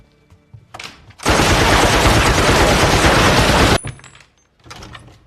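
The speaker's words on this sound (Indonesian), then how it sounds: "dia pun memakai peralatan modern yaitu Gatling Gun yang dapat menembakkan beberapa peluru sekaligus dalam satu kali tembakan" A Gatling gun in an anime fight scene unleashes a loud, dense, continuous burst of rapid fire lasting a few seconds, framed by quieter ambient sounds before and after.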